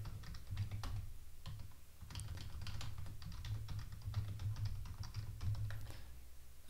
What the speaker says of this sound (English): I'll type in the root password